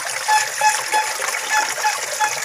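Water splashes and trickles steadily into a koi pond, a continuous close bubbling pour with no voices.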